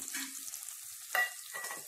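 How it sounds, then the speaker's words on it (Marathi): Grated fresh coconut and coarse ground masala frying in hot oil tempering for a Maharashtrian katachi amti, giving a steady soft sizzle with a brief louder crackle and stir partway through, close and alone without voices. "आता फोडणीमध्ये हे सगळं घातलेलं आपण खोबरं आणि जाड मसाला ते परतून घ्यायचं आहे छानपैकी."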